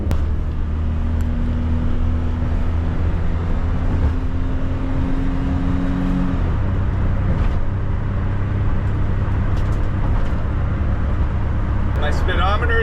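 A Daihatsu Mira kei van's small engine drones loud and steady while climbing uphill, its low tone shifting as it downshifts partway through, with road and cabin noise throughout.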